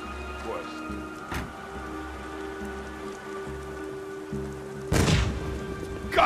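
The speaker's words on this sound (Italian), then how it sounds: "Questa maledetta pioggia." Steady rain falls in the video game Beyond: Two Souls, a continuous even patter with a low droning hum beneath, broken by a few sharp thuds and a louder burst near the end.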